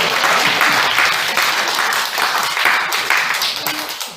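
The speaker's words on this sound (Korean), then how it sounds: "여기서 박수가 한번 나와요." Audience at a church missions conference breaking into sustained applause, a dense, even wash of many hands clapping that holds for several seconds and gradually thins, with faint crowd voices beneath.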